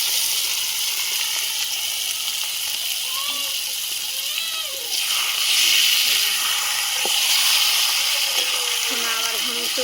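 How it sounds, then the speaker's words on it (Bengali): Marinated meat hits hot oil with a loud, steady hiss that swells as more pieces go in, while a person talks over the sizzle. "এই মাখানো মাংসটা এবার দিয়ে দেবো। তেল ঠিকঠাক হলে না আস্তে আস্তে এভাবে দিতে হচ্ছে।"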